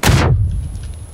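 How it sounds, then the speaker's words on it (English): A grenade explosion in PUBG hits with a sharp, loud blast at the start, then a low rumbling tail fades over about a second. "That was a grenade."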